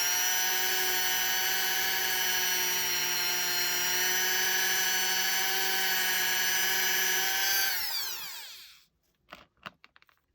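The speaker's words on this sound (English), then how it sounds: "So I'm going to slow down my Dremel." A Dremel rotary tool whines at high, steady speed drilling into plastic and green stuff putty, a loud close tonal drone that winds down and stops, followed by a few small clicks and taps.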